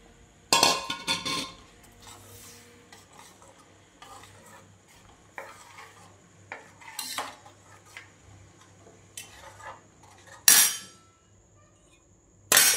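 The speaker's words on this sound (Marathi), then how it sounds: "आपला मसूर जो शिजवला होता आपण तो टाकूया त्यात" Scattered scraping and clinking of a spoon stirring cooked masoor lentils into masala in a pot, with a few louder knocks and quiet gaps between, no voices.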